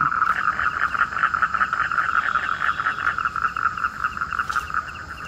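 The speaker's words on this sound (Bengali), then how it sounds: "বর্ষাকালের মতো ব্যাঙ ডাকা শুরু হয়ে গেছে" Large frogs croaking from a small village pond after rain in the rainy season, a dense steady chorus of rapid pulsing calls close by, with no talking.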